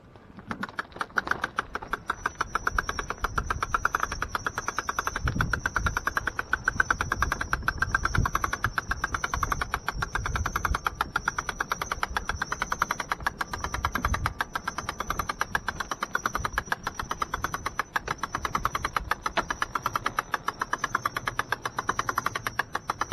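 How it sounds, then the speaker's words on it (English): An oiled roof lift system cranks up with a steady, rapid run of mechanical clicks from the locking mechanism engaging, close and continuous throughout with a faint squeak, no voices. "The clicking noise you heard was just the locking mechanism engaging."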